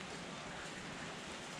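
Rain falls steadily outdoors in Bicol, a soft, even wash of broadband hiss that stays constant throughout, moderately distant and without any voices.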